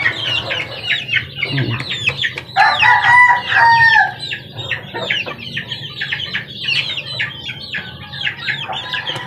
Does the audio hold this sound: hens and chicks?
yes